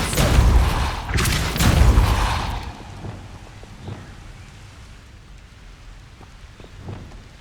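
The Depulso force-push spell is cast in Hogwarts Legacy, making two loud, heavy booming whooshes in quick succession, then fading into quieter scattered rumbles and thuds.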